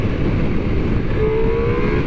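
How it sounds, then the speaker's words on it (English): Ducati Multistrada V4 S with a 170-horsepower V4 engine accelerating, a loud, steady, continuous engine roar with a rising tone toward the end, up close and with no talk. "I've just never failed to be impressed by this V4 engine."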